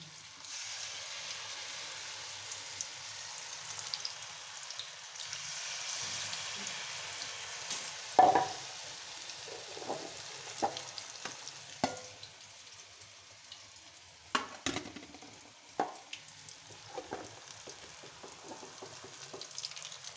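A mixture frying in a pan until brown, giving a soft steady sizzle with a few sharper clinks and scrapes from handling, quiet and close with no voices.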